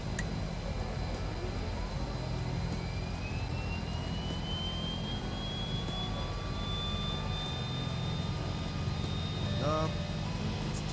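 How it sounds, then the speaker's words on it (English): Right-side engine 2 of an airliner spooling up during start in Microsoft Flight Simulator 2024, a steady broadband jet roar with a slowly rising whine, under intermittent talk. "All right, let's start up engine 2, right side."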